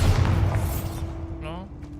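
A Bombarda spell blast in Hogwarts Legacy, a heavy booming explosion with a rumbling decay over about a second, under a voice shouting.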